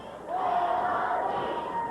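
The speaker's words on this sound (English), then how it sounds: "the crowd is now chanting their popular and favorite Whale on the Beach chant, directed at Playboy Buddy Rose" An indoor professional wrestling crowd in Portland chanting in unison at a heel, a sustained, roaring group voice that swells after a brief start and holds steady, fairly loud and reverberant.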